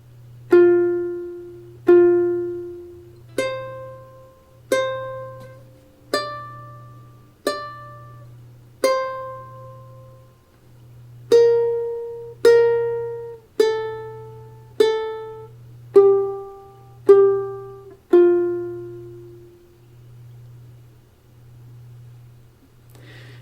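Ukulele picks out four measures of tablature slowly, single plucked notes ringing and fading in a steady, unhurried beat. A soft, regular low click pulses underneath throughout.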